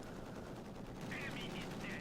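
Machine-gun fire from perimeter bunkers in the World War II strategy game Company of Heroes 2, a steady rattling burst sitting under dense battle noise, continuous and moderately loud throughout.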